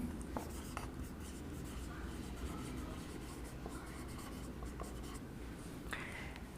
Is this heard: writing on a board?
yes